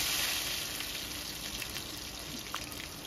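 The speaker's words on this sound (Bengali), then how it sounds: "তেল এদিকে গরম হয়ে গেছে, এখন আমি একটা পাতুরি ছেড়ে দিচ্ছি।" Lentil patori wrapped in pumpkin leaf frying in a shallow layer of hot mustard oil, a steady dense sizzle with a bright crackling hiss throughout, fairly loud and close, with no voices.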